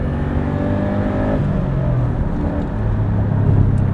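A retro Subaru Impreza pulls hard out of a corner in second gear, its engine note loud and rising steadily from inside the car, with no speech.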